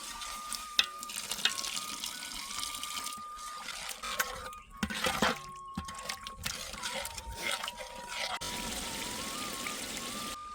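Water pours and trickles steadily at a low level into a spiced gravy for green pigeon peas, a thin continuous stream with faint clinks and a brief louder splash midway.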